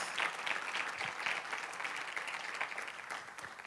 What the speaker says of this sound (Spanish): Les damos un aplauso de bienvenida a todos ustedes.